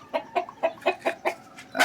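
A rooster clucking in a quick, even series of short calls, close and fairly loud, ending on a slightly louder squawk.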